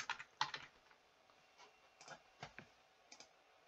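A postcode is typed on a computer keyboard into a Zoho CRM form: a short burst of light, irregular key clicks, close and quiet in an otherwise silent room.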